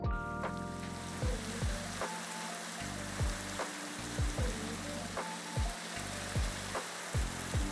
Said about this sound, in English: I think that's actual rain.